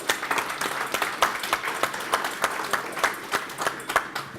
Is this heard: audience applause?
yes